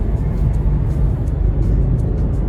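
A rental car drives along a road near Cancun, giving a steady low engine and tire drone with a faint whir, fairly loud and even throughout, with no talk.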